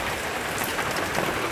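A steady rain shower pours down outdoors on Christmas Day, a dense, even hiss of drops hitting surfaces all around, close and continuous with no voices.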